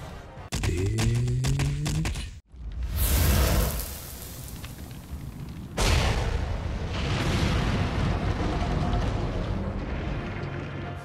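A brute wyvern in Monster Hunter sets off heavy, rumbling explosions: one long roaring blast, then a short silence and a second sustained booming eruption, with scattered smaller crackles and effects at the start.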